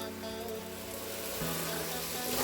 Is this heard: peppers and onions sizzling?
yes